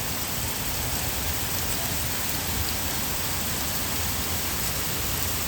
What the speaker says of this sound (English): Heavy rain. The water on the road.